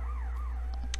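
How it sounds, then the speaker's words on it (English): A siren wails near a hospital, its pitch sweeping up and down in slow cycles at moderate distance, with a low steady rumble of background noise beneath it. "I'm sorry for the sirens."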